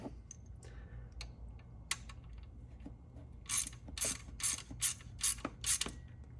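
A ratchet wrench clicks in several quick, close bursts while a bolt is tightened during head gasket replacement on a Ford Mustang EcoBoost S550, working near the timing sprocket, with faint workshop noise before it.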